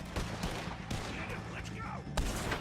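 A hectic gunfight in Red Dead Redemption 2, with rapid repeated gunshots cracking out over a steady background roar and several loud close reports, while voices shout faintly beneath.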